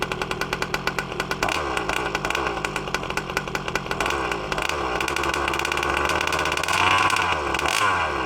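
An HPI Baja 5B 1/5-scale gas-engine RC buggy idles on its own, a loud, rapid buzzing two-stroke chatter that starts with uneven pulses and then settles into a steady fast tick-over.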